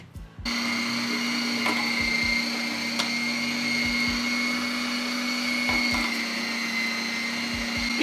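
A motorized meat grinder hums continuously with a steady whine, accompanied by faint rhythmic clicks and knocks as it grinds.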